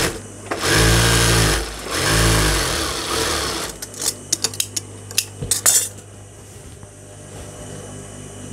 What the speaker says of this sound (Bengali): এই পাশে আর একটা সেলাই দিব। ডাবল সেলাই দিয়ে নিচ্ছি।